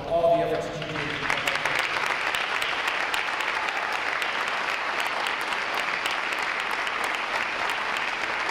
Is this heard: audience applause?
yes